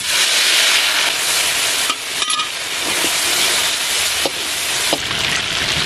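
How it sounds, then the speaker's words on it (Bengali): Shrimp frying in hot oil, a loud, dense, continuous sizzle close by, with a few brief stirring knocks and scrapes, no voices. "তেল গরম হয়ে গেছে, দিয়ে দেবো চিংড়ি মাছ।"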